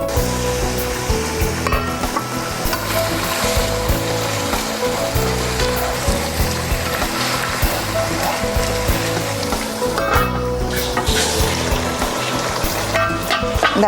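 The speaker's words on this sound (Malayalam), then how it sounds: "ഇടയ്ക്ക് ഇളക്കി കൊടുത്ത് നമുക്ക് വേവിക്കാം" Chicken cafreal cooks in a covered pan, a loud continuous sizzle and bubbling frying sound with scraping stirs mixed in throughout.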